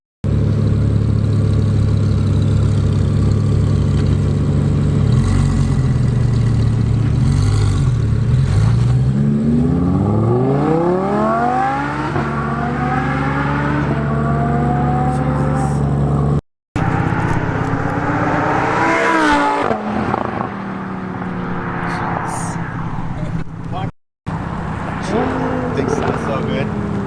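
Nissan 240SX S14 with an RB25 engine, loud and close, idling with a steady rumble before revving up in rising sweeps that fall back, repeated several times, with a couple of brief dropouts.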